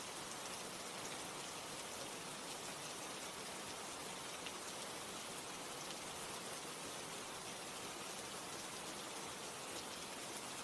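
Steady rain falls, a dense, even hiss of drops on surfaces that holds constant throughout with no pauses or other sounds.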